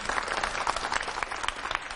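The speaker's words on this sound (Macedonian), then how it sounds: "посебен аплауз заслужува и наставничка Светле која што е тука заедно со нас" A school audience applauding a teacher at a school event, a brief, dense burst of many hands clapping with a faint voice underneath.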